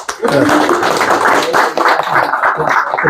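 A church gathering applauds to welcome a speaker, a loud, dense patter of many hands clapping steadily throughout, close and continuous with some voices blended underneath.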